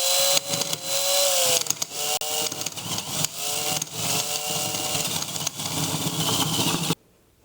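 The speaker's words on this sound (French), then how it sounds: "Donc on va essayer déjà de lui faire un petit avant-trou." A drill bores a pilot hole into a stuck screw on a Honda CB 750 Seven Fifty brake, giving a loud, continuous whine whose pitch wavers and dips as the bit bites, then stops abruptly.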